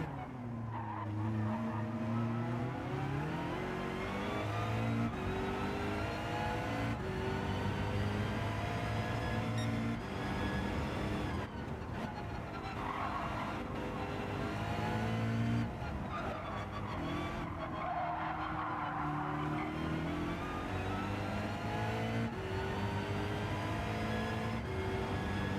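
A race car in Gran Turismo 7, played in VR, revs and shifts hard around a track with tire squeal under braking. The engine is loud and continuous, and other cars can be heard nearby.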